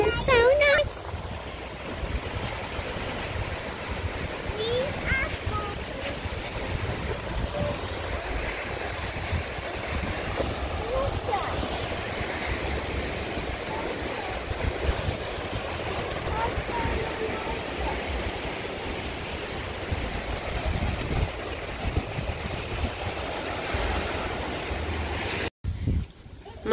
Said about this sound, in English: So Ali, we walking along by the beach here, and it is so nice.